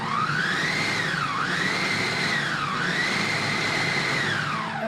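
A blender runs continuously and loudly on frozen strawberries and banana for nice cream, its motor pitch rising and dipping in repeated swells as the thick mixture catches and frees the blades.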